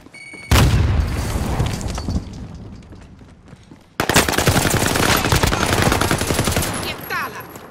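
Gunfire and explosions in a battle-royale shooter, heavy machine-gun bursts and booming blasts loud and close, with a sudden cut into a second dense barrage, a voice briefly audible in the mix.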